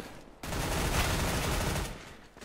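P90 submachine gun fire in Counter-Strike: Global Offensive on the map Cobblestone, a loud, dense burst of rapid automatic shots that starts abruptly and runs steadily for about two seconds before easing off.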